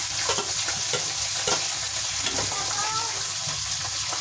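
Garlic and onion fry in a pan with a steady, close sizzle, broken by occasional stirring scrapes and clinks.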